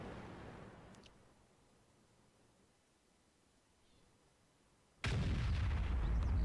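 A sudden loud tank gun blast in World of Tanks, striking an enemy E75 heavy tank, bursting in after several seconds of near-quiet ambience and holding as a heavy roaring boom.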